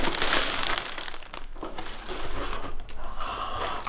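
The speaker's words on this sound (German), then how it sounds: "Ich mag so Amazon-Pakete auspacken." Amazon packages being unpacked, with cardboard and plastic wrapping crinkling and crumpling continuously up close, a busy rustle that dips briefly midway before resuming.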